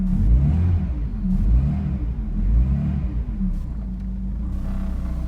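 A Tofaş Şahin car engine, started after sitting unused for a long time, runs steadily with a deep rumbling idle and swells in a few moderate revs, close and loud throughout.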